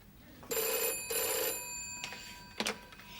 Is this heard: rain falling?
no